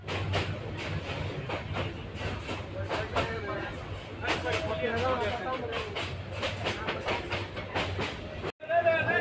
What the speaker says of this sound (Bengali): আমাদের ট্রেন এখন মেতিকান্দা স্টেশন থেকে মাত্র চারলো